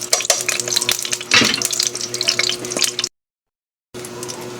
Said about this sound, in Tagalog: tapos na po natin na prito yung mga talong